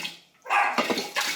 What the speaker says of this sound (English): I don't know what my dog is barking at